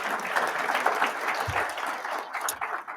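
Brief, lively applause from the audience at a Phi Beta Kappa induction ceremony, dense clapping throughout at a fairly even level.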